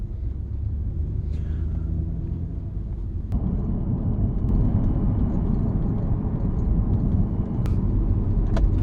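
Interior rumble of a Hyundai Equus limousine, a front-wheel-drive large sedan about 20 years old with soft suspension, rounding a corner below 50 km/h; steady low road and engine drone that thickens slightly midway.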